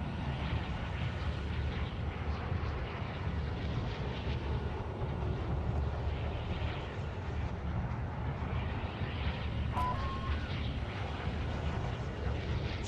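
Steady, continuous drone of an airplane flying overhead in the Warzone video game, a constant engine roar with no breaks and no talk.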